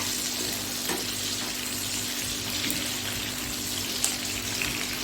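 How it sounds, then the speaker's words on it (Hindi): Green chillies frying in hot oil in a pan, a steady, even hiss and crackle that runs unbroken, with a few small pops near the end. "मगर इसको और भी क्रिस्पी करने के लिए फ्राई करूँगी मैं।"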